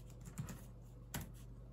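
A few faint keystrokes tap on a laptop keyboard as a terminal command is entered, two sparse clicks over a steady low hum.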